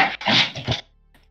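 A dog named Hermès gives a short whimpering, growling vocalization, a few close, loud bursts within about a second, followed by near silence.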